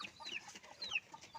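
A native farmyard rooster lets out a few quick, soft clucks and chirpy calls in a short close burst, with faint background noise and no talk.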